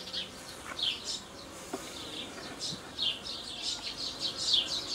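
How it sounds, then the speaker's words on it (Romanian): Honey bees crawling on a hive divider board while a colony is split into nuclei, giving a close, continuous buzzing hum with brief higher-pitched buzzes swelling and fading throughout. "iată cum stă albinuța pe diafragmă, așa."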